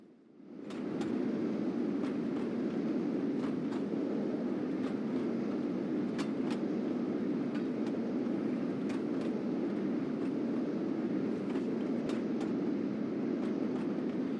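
Grain train climbing out of a river valley in the Trainz railroad game, a steady low rumbling drone of locomotives and rolling cars under load, holding at an even level with faint intermittent clicks.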